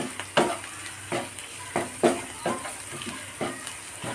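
Sliced onions sauté with a bay leaf in a pan for vermicelli biryani, a steady sizzle punctuated by regular clacking spatula strokes roughly every half second, close and moderately loud, with no talk.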